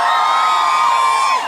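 Loud, sustained hooting from a music-show audience fills the space, many voices whooping together in one continuous roar that tapers slightly at the end.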